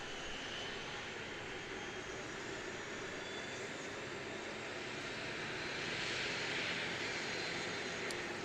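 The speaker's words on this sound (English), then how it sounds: "Invercargill Aviation saying Invercargill ATR on approach." An ATR turboprop airliner at Christchurch Airport, New Zealand, at sunset: a steady broadband engine roar from a fairly distant aircraft, swelling slightly toward the end, with no voices.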